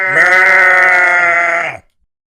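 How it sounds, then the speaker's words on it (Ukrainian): A single sheep bleats loudly and close by, one long, steady, wavering call that lasts almost two seconds and then stops cleanly, with no other sounds around it. "А ви знаєте, як говорять вівці? А вівці кажуть."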